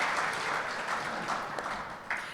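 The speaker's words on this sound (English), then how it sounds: "Let's give Paul a round of applause." Audience applause at a college athletics Hall of Fame celebration, a dense, steady clapping from a crowd that tapers slightly over about two seconds.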